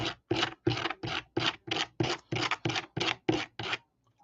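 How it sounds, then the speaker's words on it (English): Dimes rubbed on coarse 80-grit sandpaper: about twelve quick, even, rasping strokes in a steady rhythm, close and clear with no other sound. "he's taking 80 grit to them dimes"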